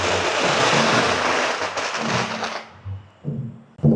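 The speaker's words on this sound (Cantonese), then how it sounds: "親景嘅龍船咧，沿途都會一直放炮仗㗎" Firecrackers set off for visiting dragon boats at Liede village in Guangzhou crackle in a dense, loud, continuous barrage that cuts out after a few seconds, leaving scattered pops over a low rumble.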